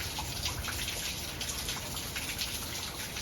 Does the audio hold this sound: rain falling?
yes